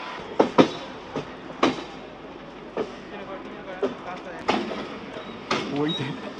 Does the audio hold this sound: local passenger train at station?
yes